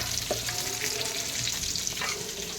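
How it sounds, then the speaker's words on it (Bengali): Carrots and pointed gourd sizzle steadily in a home kitchen pan, a continuous close hiss with faint clinks and stirring noises throughout. "এই যে গাজর পটল সব ভাজা হচ্ছে"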